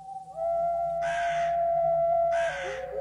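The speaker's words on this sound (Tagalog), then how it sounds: "yung huni ng ibong wakwak paulit-ulit" Wakwak bird call, heard in a rural Capiz setting: two loud, harsh, crow-like caws close by, each lasting about a second, over a steady tonal hum.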